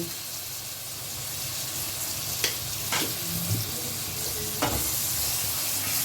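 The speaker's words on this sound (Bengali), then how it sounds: "এবার আঁচটাকে সিম করে মশলাটাকে ভালো করে ভেজে নেব, কষিয়ে নেব।" Prawn curry spice paste of chilli and turmeric powders with a little water fries on low heat in a pan, sizzling steadily up close, with a few sharp stirring clinks and scrapes and no voices.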